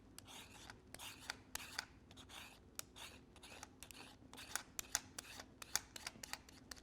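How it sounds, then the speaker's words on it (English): A carrot is stripped with a square peeler in quick, quiet downward strokes, a run of close, dry scraping rasps in an irregular rhythm in a kitchen. "You just want to peel straight down in a single motion."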